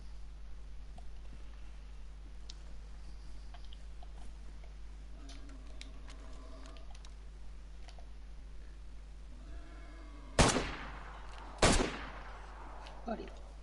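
Two sharp, loud gunshots ring out close together in the survival game DayZ over a quiet, humming ambient background, followed by a fainter third report.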